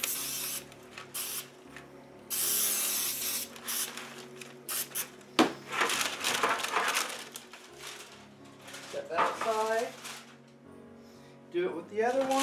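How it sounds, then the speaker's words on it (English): Baking spray from an aerosol can coating a parchment-lined pan for gingerbread cookies: a few short hissing bursts close by, separated by pauses and handling noise, with brief talk in between. "Spray it with some baking spray."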